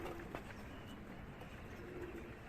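Pigeons coo faintly in two soft, low calls, one at the start and another near the end, over a quiet background hum.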